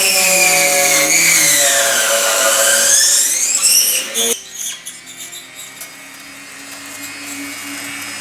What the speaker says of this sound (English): So I've outfitted my Dremel and my routing attachment here, and now we can start recessing these extra little spots.